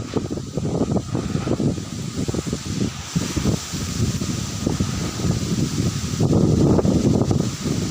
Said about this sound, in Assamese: বহুত বতাহ।